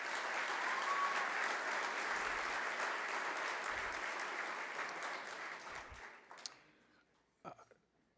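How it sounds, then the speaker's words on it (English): Audience applause at a Missouri Athletic Club Hermann Trophy gathering in St. Louis, a broad, full room of clapping that runs steadily for several seconds before thinning out and dying away to a few scattered final claps. "please, a nice round of applause for our featured speaker,"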